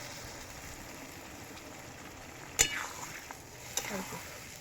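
Oil sizzles steadily as a little water goes into spiced potatoes frying in a pan for a rohu fish and tomato curry, with two sharp splashy pops breaking the continuous crackle.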